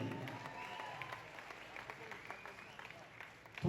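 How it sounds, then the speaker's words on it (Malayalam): Audience applause rings out at the Mr. Malappuram 2025 kids bodybuilding competition, a steady, faint patter of many hands clapping in a hall that swells slightly at the very end. "ഭാവിയിലെ ബോഡി ബിൽഡേഴ്സ് ആട്ടാ, കൊടുക്കുന്ന നല്ലൊരു കയ്യടി."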